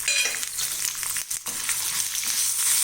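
Dried red chillies with fenugreek and lentils frying in hot oil make a loud, close, crackling sizzle with stirring scrapes. It briefly drops out for a moment near the middle, and no one speaks.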